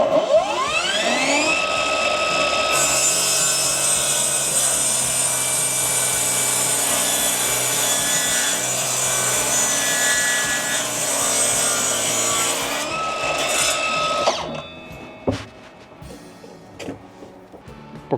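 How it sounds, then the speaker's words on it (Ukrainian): A ProCraft PGS 20 cordless miter saw whines up and cuts steadily through a wooden board for about twelve seconds, then winds down, followed by light knocks and handling. "Перевіримо, чи пилка візьме."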